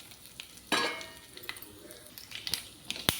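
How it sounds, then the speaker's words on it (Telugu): Green chilli, mustard seeds and cumin go into hot oil for a ginger brinjal fry. They give a soft sizzle broken by sharp pops and clinks of a spoon against the pan, close but quiet, with no talk. "గ్రీన్ చిల్లీ, ఆవాలు, జీలకర్ర కూడా వేసేసుకోవాలండి పోపులు."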